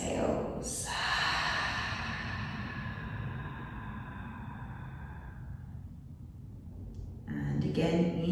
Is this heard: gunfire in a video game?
no